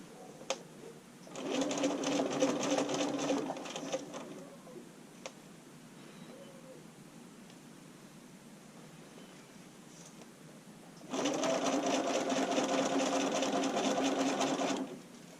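A domestic sewing machine runs basting stitches through stretchy bodysuit fabric, with a rapid mechanical whirring burst of a few seconds, a quiet pause, then a second similar run, close and clear.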